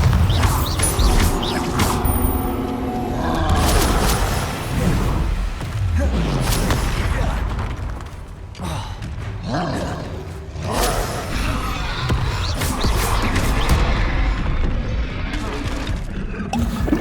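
Bombarda blasting spells in Hogwarts Legacy, repeated booming explosions and crashes in a dense, loud stretch of combat with whooshing spell effects and other game noise throughout.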